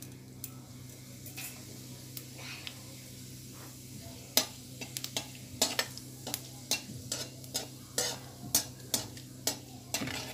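Whole cumin seeds sizzle and crackle in hot oil in a pan on a low flame for a Mughlai potato curry, with a steady fry hiss and a series of sharp pops that grow busier toward the end.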